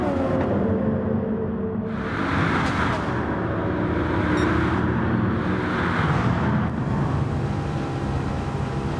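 Bugatti Veyron race car in a racing video game on the Tokyo Expressway east outer loop, a loud continuous engine roar with shifting pitch and surges, no talk.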